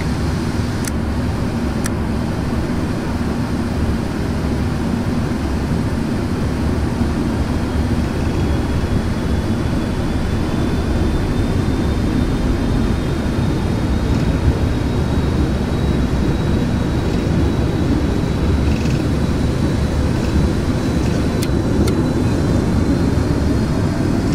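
Boeing 777 engines roaring steadily through a takeoff roll on runway 02 at Armenia (SKAR), a loud, continuous broadband rumble with a faint rising whine, heard from inside a PMDG flight simulator game.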